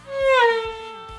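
A violin glissando on the A string imitates a car going by: a single bowed note starts loud, slides downward in pitch and fades quickly, close and played alone.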